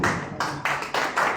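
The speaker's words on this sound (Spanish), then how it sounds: "También queremos recibir un fuerte aplauso a don Eduardo Bancayán" Audience applause at a Peruvian radio event, a steady wash of clapping that swells in three or four pulses across a brief stretch.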